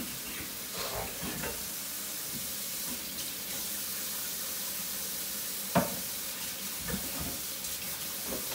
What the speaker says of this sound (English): the sink's filling up so that I have water to do the dishes